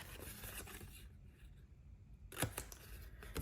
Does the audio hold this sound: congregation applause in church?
no